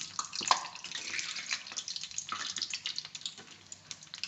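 Sweet gulgule fritters fry in hot oil with a little water in the batter, giving a fine continuous crackling sizzle with scattered sharper pops, quiet and close, with no talk over it.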